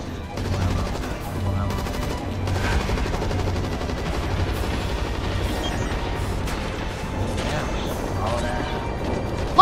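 Rapid gunfire from the video game Zombies-Monsters-Robots, with dense bursts of shots running continuously through the whole stretch over a busy game soundtrack.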